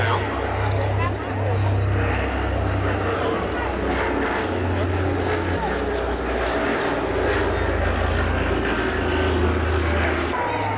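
A Consolidated PBY-5A Catalina flying boat, wingtip floats lowered, makes a low pass at an East Fortune airshow, its propeller engines droning loudly and steadily under a commentator's voice over loudspeakers.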